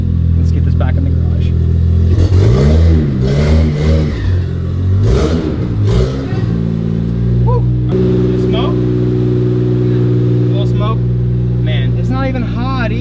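Twin-turbo Lexus with a coolant leak, engine cranking and catching, then settling into a steady, loud idle up close, with people talking over it.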